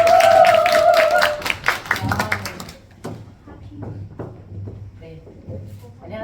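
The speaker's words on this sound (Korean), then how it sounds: "큰 박수로 맞이해주세요." A Korean lecture audience claps to welcome a speaker on stage, first in a burst of scattered hand claps that thin out into a few isolated slaps, with voices talking nearby.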